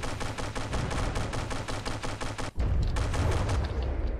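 Ammunition detonates in the From the Depths naval combat game, a rapid, dense crackle of explosions that breaks off briefly and then gives way to a heavy, sustained rumbling roar.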